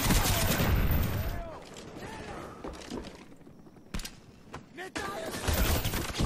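Rapid gunfire bursts rattle in Call of Duty Black Ops, loud at the start and end with scattered sharper shots and debris between, while a player's voice comes through over the fight.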